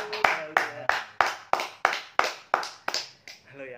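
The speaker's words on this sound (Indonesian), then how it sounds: "Mari kita berikan tepuk tangan untuk Tuhan." Church congregation clapping in unison during a worship service, about a dozen sharp, steady beats roughly three per second, close and loud, with faint voices underneath.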